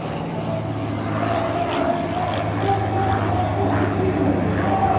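A Halcones aerobatic team airplane performs at the 2022 Domingo Aéreo air show at the Academia da Força Aérea, its engine a steady, continuous drone throughout with faint voices in the background.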